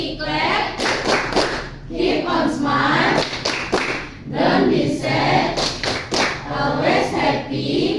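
Rhythmic hand clapping for a Happy Clap ice breaker in a micro-teaching class, with steady patterned claps and thumps repeating in groups across the whole stretch while a voice chants along over them.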